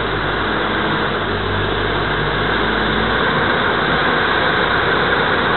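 A Hyundai Robex 140W-7 wheeled excavator engine idles with a loud, steady, close-up rumble that holds unchanged throughout.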